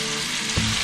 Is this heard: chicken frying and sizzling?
yes